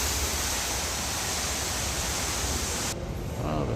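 An indoor water fountain at a bonsai convention venue splashes in a loud, steady hiss of falling water that drops off abruptly near the end.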